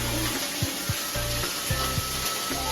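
Food sizzling in a cooking pan, a loud, dense crackle with repeated rhythmic scraping strokes of stirring against the pan throughout.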